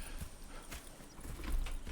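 Horses in the Red Dead Redemption 2 video game: soft, uneven hoof clops of walking horses, with what may be a brief whinny, fairly quiet throughout.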